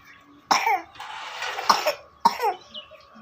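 A young child coughs three times in quick, hoarse bursts, close and fairly loud, with quiet gaps between them.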